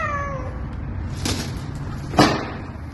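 A university campus cat, back in its usual spot after sterilization, gives one short meow, followed by two sharp bangs like a door slamming nearby.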